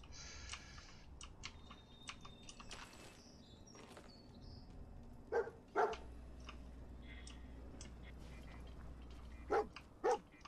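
Dogmeat, the canine companion in Fallout 4, barks in short sharp bursts, two near the middle and two more toward the end, over soft game ambience and low background hum.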